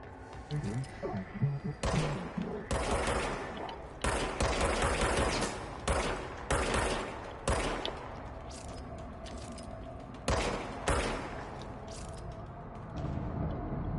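Bursts of gunfire ring out in the action game Control, several loud clusters of rapid shots separated by short gaps, with someone talking between and over the shooting.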